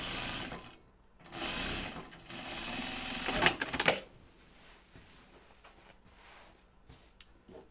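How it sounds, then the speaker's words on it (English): A serger sews a 3/8 inch seam on fabric for a pair of shorts, its motor whirring in bursts with a louder rapid run in the middle, close, then fading to quieter handling sounds. "I'm going to do mine so that includes the serging."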